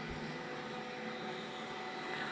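Roborock S5 robot vacuum running over carpet, a steady, even whirring drone of motor and suction held at constant loudness throughout, close by with no voices.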